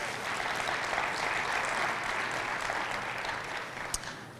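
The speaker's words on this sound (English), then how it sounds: "Let's give them a big round of applause." Seminar audience applause, a dense, even wash of many hands clapping at steady strength throughout, easing slightly near the end, with one sharp louder clap.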